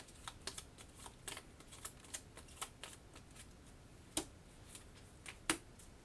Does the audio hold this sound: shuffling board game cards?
yes